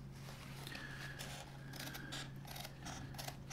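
Scissors cut fabric for the bottom of a ditty bag, giving a faint, steady series of soft snipping and crunching sounds close by against low background hum.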